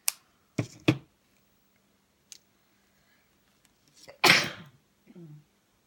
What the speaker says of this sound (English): I suddenly had to sneeze.